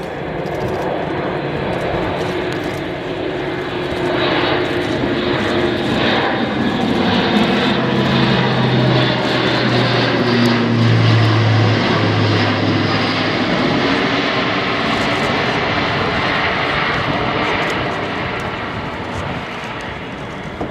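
An Airbus A400M military transport aircraft with turboprop engines flies past at an air show, producing a loud, sustained engine roar with a droning pitch that swells and then fades slowly over twenty seconds.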